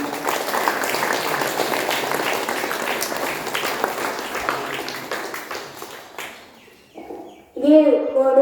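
Students at a school assembly break into sustained applause, a dense crowd of clapping that fades out, followed by a voice speaking into a microphone.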